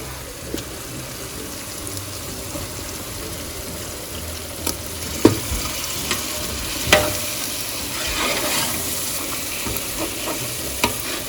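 Meat for nalli biryani fries in a spiced masala with a steady sizzling hiss, punctuated by scattered spoon clicks and scraping stirs that grow busier toward the end.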